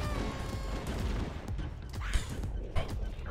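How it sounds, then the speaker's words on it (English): Many pistols firing at once in a modded Halo video game, a dense continuous clatter of overlapping shots with a few louder cracks standing out, loud and close. "I just come around this corner and find a bunch of pistols going off."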